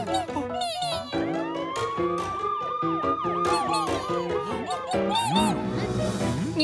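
A fire truck siren from a Pinkfong 3D animated children's rescue cartoon wails in rising and falling sweeps over bright music and cartoon voices, loud and continuous throughout.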